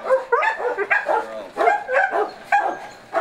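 Several rescue dogs bark repeatedly in quick overlapping yips and bow-wows, loud and close, with a few whimpers mixed in and no clear talk.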